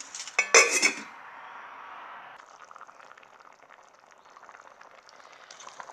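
A few loud clinks of a pot or utensil, then a soft, steady bubbling and hiss of fish soup boiling in a pot nearby.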